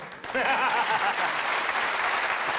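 A studio audience at a comedy show breaks into applause after a brief lead-in, loud, dense clapping with some laughter mixed in that carries on to the end.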